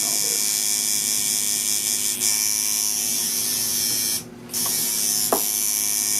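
A tattoo machine running steadily while shading with magnum needles, a continuous close electric buzz with a brief dip in the middle.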